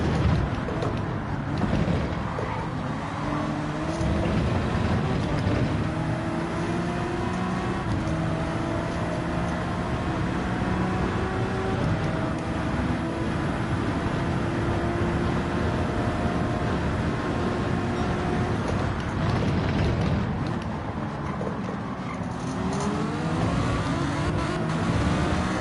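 A McLaren GT3 race car engine in Gran Turismo 7 drones steadily at high revs through a long stretch of lobby sprint racing, the pitch shifting as gears change, with other cars faint underneath.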